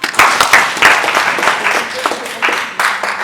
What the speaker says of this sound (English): Let us give them a clap.